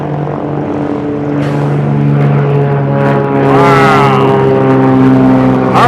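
A propeller airplane drones in toward a busy airport, its loud steady engine tone rising and sweeping as it approaches close by, with no voices over it.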